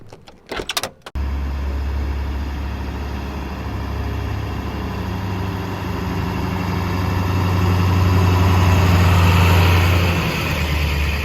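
A car's engine drones steadily from inside the cabin while towing a new trailer on the drive home to Chattanooga, a low constant hum that swells slightly louder near the end after a brief rustle at the start.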